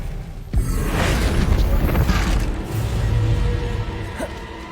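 A Bombarda blasting spell in Hogwarts Legacy goes off in a sudden loud burst, followed by a roaring, rumbling swell that lingers for a few seconds before easing off.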